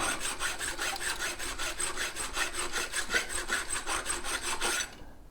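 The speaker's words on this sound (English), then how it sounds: "You can definitely use a hand file." A hand file rasps back and forth on a shock absorber part in steady, rhythmic strokes, loud and close, with no talking, until it stops abruptly at the end.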